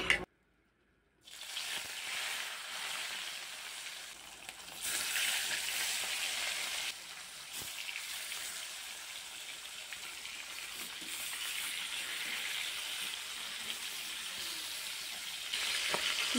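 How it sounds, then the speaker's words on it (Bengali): Rui fish pieces frying in hot mustard oil in a kadai, giving a steady loud sizzle and crackle that swells and eases in waves after a brief silent start. "মাছগুলোকে আমি উল্টিয়ে পাল্টিয়ে লাল লাল করে ভেজে নিয়েছি"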